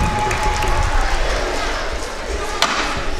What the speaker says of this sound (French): Applaudissez-moi ça sur vos ovations